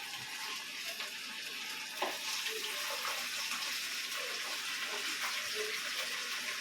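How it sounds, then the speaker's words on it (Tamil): Chicken pieces frying in hot oil in a small kadai, a steady hissing sizzle with bubbling that continues evenly, and no voices above it. "சிக்கனை ஃபஸ்ட்டு வந்து போட்டு பொரிச்சிக்கலாம்."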